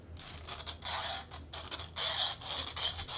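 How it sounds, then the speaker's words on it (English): A hand deburring tool scrapes around the cut end of a copper pipe, giving short bursts of close, rasping scratches that start and stop in an uneven rhythm. "This is my deburring tool."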